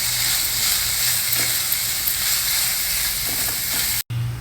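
Soaked, washed poha being mixed and stirred in a pan, giving a steady hissing, scraping texture that runs continuously with a brief break near the end.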